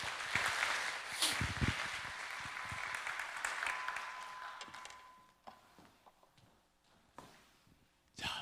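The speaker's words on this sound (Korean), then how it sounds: "우리 목사님 나오실 때 박수로 맞이하시겠습니다." Congregation applause in a church welcoming the pastor to the pulpit during an early-morning special prayer service, clapping that starts fairly full, thins out and dies away, followed by scattered sounds and quiet.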